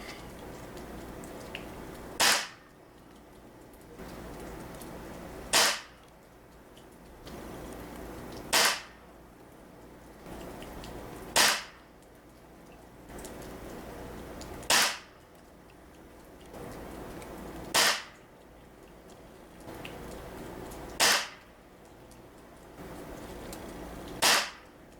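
A Hatsan 125 Sniper Vortex .22 air rifle fires pellets at a target, eight sharp, loud cracks spaced evenly about three seconds apart over a quiet outdoor background.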